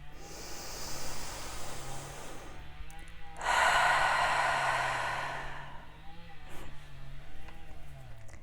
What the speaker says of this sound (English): You want to focus on taking nice deep breaths into the belly, expanding the abdomen and rib cage, and then exhaling through an open mouth and a relaxed jaw